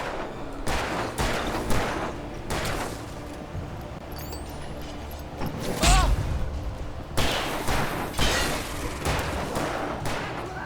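Gunfire from the Alan Wake video game, loud shots scattered across the stretch amid rumbling ambience, with brief voice fragments in between.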